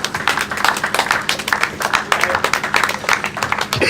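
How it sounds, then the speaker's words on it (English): An audience claps steadily in a crowded hall at a vehicle inspection service event, dense rhythmic applause continuing throughout with a voice speaking over it. "Keep clapping, please."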